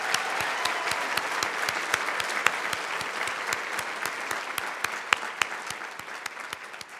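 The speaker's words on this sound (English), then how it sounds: "Can everyone please join me in giving our big ideas presenters another round of applause?" A conference audience applauds presenters at a health event, with dense, steady clapping that goes on for the whole stretch and fades slightly near the end.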